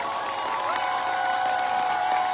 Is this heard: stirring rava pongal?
no